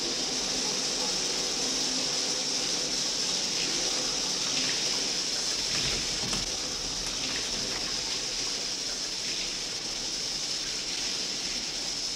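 A shower runs in the background, a steady hissing spray of water that continues evenly throughout with slight shifts in texture.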